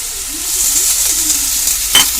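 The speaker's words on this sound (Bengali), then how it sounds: "নুন দিয়ে সব মশলা দিয়ে চিংড়ি মাছ দিয়ে এবার মোচাটাকে কষাবো" Boiled banana flower sautéing with prawns, salt, turmeric and spices in a pan, a loud close hiss of sizzling oil with scraping stirs and a sharp clink near the end.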